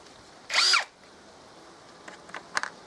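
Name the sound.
PROCRAFT PA 21 Li cordless drill drilling with worn bit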